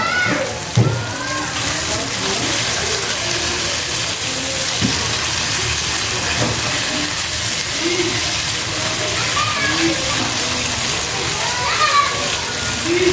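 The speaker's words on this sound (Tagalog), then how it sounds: "Lagyan natin ng tubig para naman hindi siya tuyong-tuyo" Water runs into pasta cooking in a pan, a continuous hissing, splashing sizzle that lasts throughout, with a voice speaking over it.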